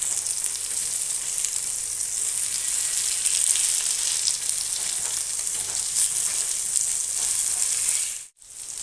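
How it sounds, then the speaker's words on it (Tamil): Three fish roasting in a pan on low heat, a continuous bright hiss of frying oil, steady and close, with a faint stir and a momentary dip near the end. "மூணு மீனாக போட்டு வறுத்தெடுக்கிறேன்."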